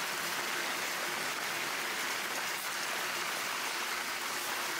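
Heavy rain pours steadily onto and into an unfinished house under construction in the Philippines, a dense, even hiss of falling water with no voices.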